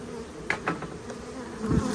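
Honeybees buzz close by with a steady droning hum during a cabinet extraction, a few louder wingbeat swells rising briefly over the continuous insect noise.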